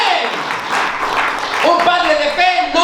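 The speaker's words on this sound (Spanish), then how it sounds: "Den un fuerte aplauso al Dios Todopoderoso." A church congregation bursts into brief, dense applause during a sermon, a rushing wash of clapping that fades as a voice rises and carries on over it.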